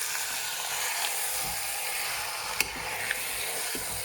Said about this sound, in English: you're cooking in at a bit of a medium to high heat to let those spices start roasting, getting that ghee and the onions through the meat